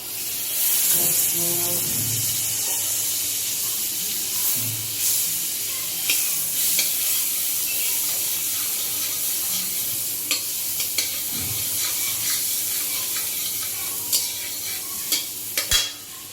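Butter sizzling in a hot kadai on a gas stove, a loud steady hiss with scattered crackles and occasional sharp spatula knocks against the metal.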